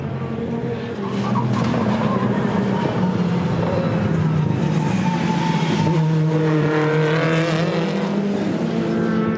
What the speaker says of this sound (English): Six laps into the race, Stefano D'Aste puts a great move on Independence Trophy rival Franz Engsler for 9th into the twisty section of the Hungaroring